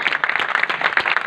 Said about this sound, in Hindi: सब तालियां बजाकर, सब तालियां बजाएं